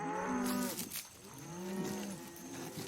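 A cow moos twice in long, drawn-out calls with a brief pause between them, fairly close and clear, in a cartoon setting with no talk.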